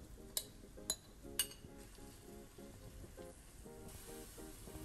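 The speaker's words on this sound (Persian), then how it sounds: "حالا تو همون مایتابه مرغا رو سرخ میکنم." Chicken pieces frying in a pan that was just used for the sauce, while chicken pasta with tomato and basil is being prepared. Three sharp clinks come first, then a faint steady sizzle runs beneath soft tonal background sounds.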